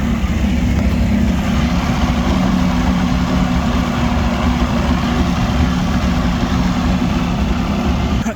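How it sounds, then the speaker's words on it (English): Boat engine idling steadily after a cold start at end of season, warming up with a loud, continuous low rumble and no other sounds over it. "Let's go ahead and start the boat."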